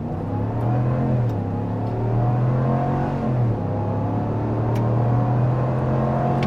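A 2024 Ram 1500 pickup truck accelerates hard from a standstill in 4-wheel drive auto, with a steady, loud engine drone whose pitch climbs, dips briefly at each gear shift, then rises again. No one speaks.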